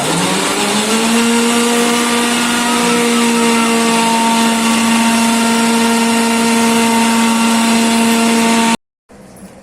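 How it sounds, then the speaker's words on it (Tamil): A mixer grinder whirs loudly and steadily as it grinds ingredients for a vegetarian curry kuzhambu, its motor whine rising at the start then holding a constant pitch before cutting off abruptly near the end. "சும்மா லைட்டாக அரைச்சா போதும்ல"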